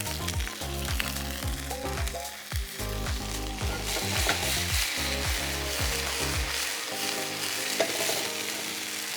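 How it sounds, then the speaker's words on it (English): Garlic, broccolini and carrots sizzle steadily in a hot pan, a continuous close frying hiss with occasional stirring scrapes, heard alone without talk. "we've got our garlic, it's toasting nicely, and we're just gonna go straight into the pan"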